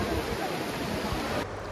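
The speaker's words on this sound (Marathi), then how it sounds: "या लाटांचा आवाज भरपूर आहे" Loud surf crashes at Diveagar beach as a dense, continuous roar close to the microphone, dropping slightly in level near the end.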